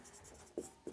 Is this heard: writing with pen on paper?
yes